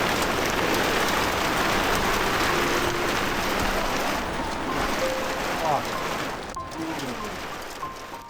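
Heavy rain mixed with hail pours down outdoors in Xinjiang, a dense, steady hiss that fades slightly toward the end, while people talk faintly beneath it.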